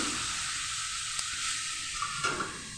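Bharali fish frying with potatoes and green chillies in a pan, giving off a steady close hiss and sizzle with a couple of faint stirring clicks.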